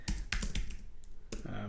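A name is typed on a computer keyboard in quick bursts of close, crisp key clicks, separated by a short pause before a final flurry, with no voices.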